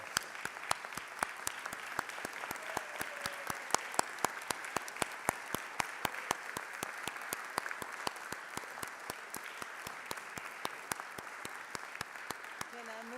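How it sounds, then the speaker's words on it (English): Members in a state House chamber give a sustained round of applause during a legislative session: a steady, even wash of many hands, somewhat distant and moderate in level, with a faint voice near the end. "Members, let's give them a round of applause."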